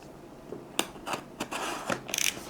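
Scissors cut open the packaging of a JLab Create wireless lavalier microphone with several close, scraping snips in quick succession.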